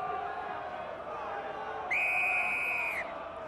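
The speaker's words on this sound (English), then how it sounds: "The referee now whistling for Bath." A single sharp, shrill referee's whistle blast lasting about a second rings out over a murmuring stadium crowd at a Bath rugby match.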